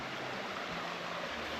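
A small mountain brook along a hiking trail flows steadily close by, a broad continuous wash of running water with no voices over it.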